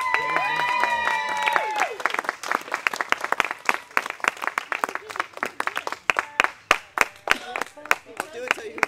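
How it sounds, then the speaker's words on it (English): Renaissance faire audience cheering, then breaking into sharp, rhythmic clapping that grows more spaced and accented, close and loud, with voices shouting over the start. "I'll do it till you stop clapping"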